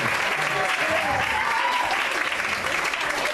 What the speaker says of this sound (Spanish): Laura, el aplauso para Laura.